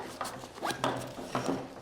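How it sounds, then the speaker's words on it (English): Zippers on a Tactical Geek L3 Pro camera sling bag are pulled closed in a few short, close rasping runs, with brief pauses between strokes. "And then you can just close this up with these nice zippers."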